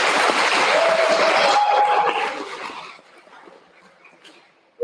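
Audience applause at an Ithaca High School awards ceremony, a burst of clapping that holds strongly for a few seconds, then thins and fades to scattered claps.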